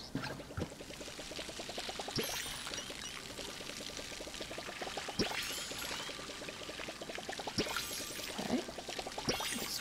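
Water pouring and splashing as crops are watered in the video game Palia, a steady gurgling stream with rhythmic ripples and occasional sharp splashes throughout.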